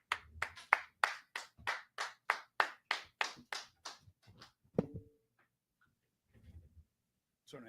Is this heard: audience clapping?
yes